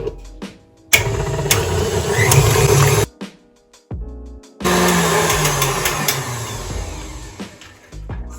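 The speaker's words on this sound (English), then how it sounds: "I'm going to pop this into the stand mixer to mix for a further 1 to 2 minutes" A stand mixer whirs loudly as it beats banana bread batter, running in two long bursts with a brief pause between, the motor hum steady and close.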